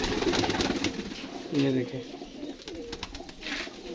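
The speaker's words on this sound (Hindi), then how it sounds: "ठेठ में उड़े हुए कबूतर है ये" Pigeons of a high-flying breed coo softly and repeatedly nearby in Azad Kashmir, while someone talks over them.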